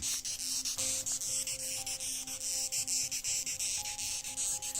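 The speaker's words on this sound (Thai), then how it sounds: "แมงกอกมีเสียงร้องเฉพาะตัวฟังคล้ายเสียงพลาสติกสีกัน" A steady, raspy scraping buzz like plastic rubbing together, made by a beetle moving its head so its neck segments rub, pulsing in quick regular strokes, with faint tonal hums beneath and no voices.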